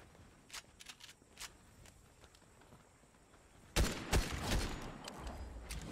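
Gunfire in a shooter video game, a few faint scattered shots early on, then a louder burst of several sharp close reports and crackling impacts in the last two seconds.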